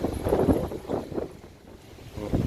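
Strong wind buffets the microphone in heavy, rumbling gusts that rise and ease, with no voices, on a rooftop terrace with blowing dust.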